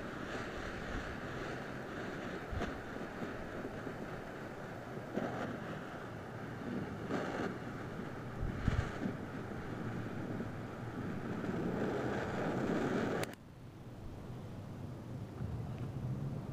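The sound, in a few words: wind blowing outdoors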